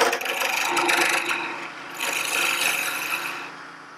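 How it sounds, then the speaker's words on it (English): Skew chisel making a light finishing cut along a wooden spindle spinning on a lathe, a steady close rasping scrape that eases off briefly midway before resuming for a second pass. "with a skew chisel now and just take a very light cut through there"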